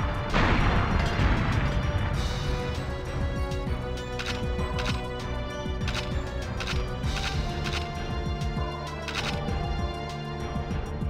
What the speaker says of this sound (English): Just blow up some more ammo crates and grab